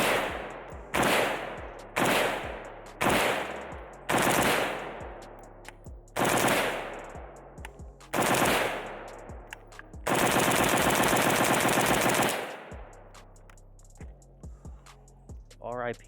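A cheap Pioneer Arms 5.56 sporter underfolder AK rifle fires outdoors: loud, spaced single shots with sharp echoing tails, then a rapid burst of rounds lasting about two seconds, followed by quieter handling noises.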